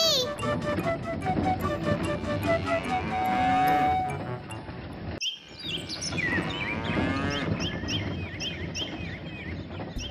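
Cartoon cows moo repeatedly over a busy animated soundtrack with music and effects, the lowing loud and close and continuing through a brief pause midway.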